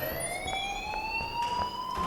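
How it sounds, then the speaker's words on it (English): A school fire alarm in the video game Life is Strange wails as a steady rising electronic tone with faint rhythmic pulses beneath it, loud and continuous throughout. "Leave Miss Caulfield alone and please turn off that alarm"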